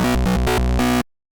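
A psytrance synth lead from Phase Plant, its wavetable position modulated, plays a single bright, buzzy note about one second long whose tone pulses rapidly in a choppy rhythm, then cuts off abruptly into silence.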